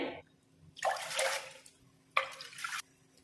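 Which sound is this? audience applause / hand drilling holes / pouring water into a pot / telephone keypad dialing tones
pouring water into a pot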